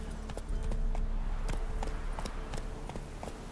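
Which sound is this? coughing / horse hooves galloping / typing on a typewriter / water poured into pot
horse hooves galloping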